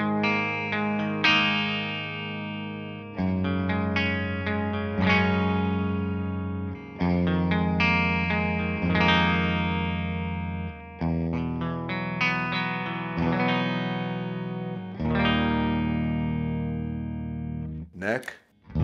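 Clean electric guitar tone on the bridge pickup through a Victory V4 Duchess amp, with strummed chords and picked notes ringing in phrases and short pauses, ending in a brief burst of higher notes.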